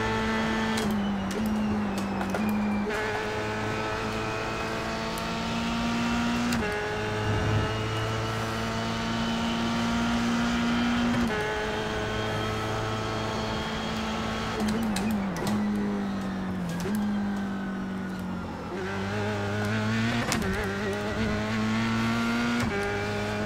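A Formula 3 race car screams around Mosport in a racing sim, its high-revving engine whining steadily, dipping on downshifts and climbing again through the gears, while a driver talks over it.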